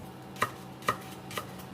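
Three sharp knife chops spaced about half a second apart as Cheongyang chili peppers are minced on a cutting board for marsh snail and mallow soup, close and isolated with no talk.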